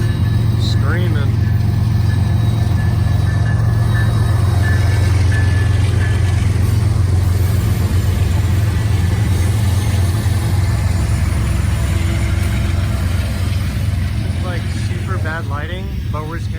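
An ES44 locomotive leads a freight train past on a connection track, a loud steady low engine rumble with wheel and rail noise filling the whole stretch, close by and continuous.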